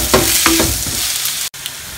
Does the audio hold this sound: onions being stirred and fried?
yes